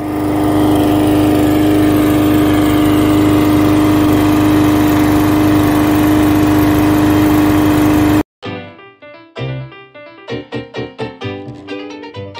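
A lawn mower cutting tall grass at a 1936 house drones loud and steady for about eight seconds with a constant engine whine, then cuts off abruptly as music takes over.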